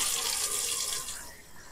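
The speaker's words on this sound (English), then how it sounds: "So, I'm going to keep water in my pail," Tap water runs steadily into a pail, a continuous broadband gush and splash that stays fairly loud and close, easing off slightly near the end, with no talking.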